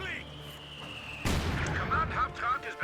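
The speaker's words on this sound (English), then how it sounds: "That mortar certainly does fire quite quickly." A mortar in Company of Heroes 2 fires with a sudden sharp boom about midway, followed by ringing battle noise and scattered cracks; a voice talks faintly before the blast.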